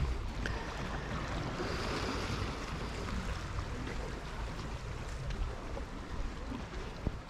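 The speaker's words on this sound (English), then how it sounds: "the GoPro microphone actually is picking up the sound of that water" Water laps and sloshes softly against a boat in a continuous gentle wash off Ko Samet, Thailand, with a faint breeze and no talking.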